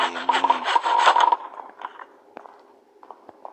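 A steady rasping saw stroke cuts hard in a video game, then thins out into lighter scrapes and a few scattered knocks, with no voices.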